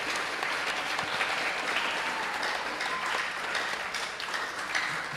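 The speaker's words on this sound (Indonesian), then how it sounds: "Tepuk tangan dulu kepada 56 remaja." Audience applause for the youth group at a church Christmas service, a sustained, even wash of many people clapping that stays strong from start to finish, with no voices over it.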